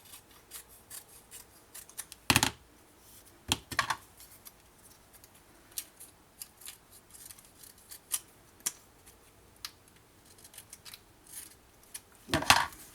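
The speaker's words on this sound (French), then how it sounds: "Alors, je vais devoir terminer avec mon ciseau." Scissors snip through scrapbooking paper in quick, close crisp cuts, with a few louder snaps among softer rustling and handling.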